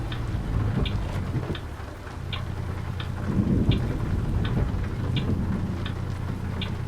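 Rain keeps up a steady hiss through a thunderstorm in American Truck Simulator, with a low rolling rumble swelling near the middle. A regular ticking beats about twice a second over it.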